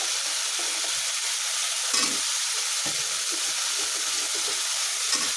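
Potato, eggplant and tomato hitting hot spiced masala, a loud continuous sizzle with faint stirring movements underneath, close and steady throughout.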